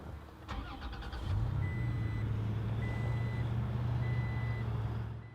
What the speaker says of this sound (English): So to start the truck using a proximity key, you just have the key in the vehicle.